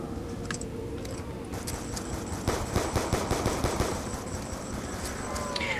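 Rapid bursts of automatic weapon fire in Black Ops 2 Zombies on the Town map, loud and close, with sharp repeated shots in a steady rhythm over a constant game background.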